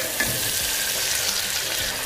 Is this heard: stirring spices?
yes